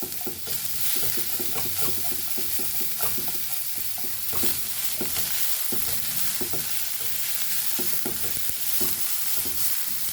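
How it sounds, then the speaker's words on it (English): Onion and coconut dry-roasting in a pan with no oil, for a Goan papaya melgor, stirred over a medium flame: a continuous, close scraping and rustling with a steady rhythm of stirring strokes under a faint sizzle, with no voices. "I am only roasting this onion along with coconut"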